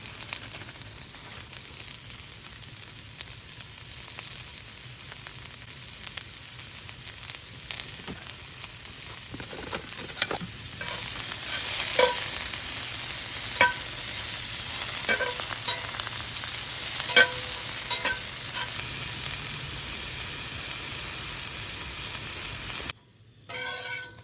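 Green pepper and white onion fry on a camp stove with a steady loud sizzle and hiss, stirred now and then with scraping clicks; the frying grows louder midway and briefly cuts out near the end.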